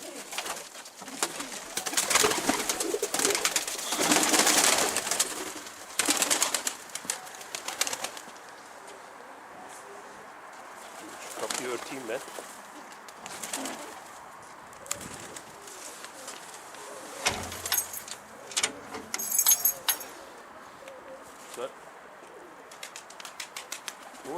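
Pigeons at a rooftop loft cooing and calling in bursts, with wingbeats flapping now and then, fairly close, over faint outdoor background.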